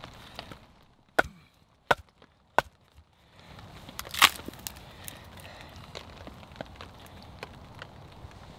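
A ModKit MOD survival knife chops into knotted wood, giving three sharp, separate blows in quick succession and then a louder fourth strike after a short pause, all close by and fairly loud over faint outdoor background noise.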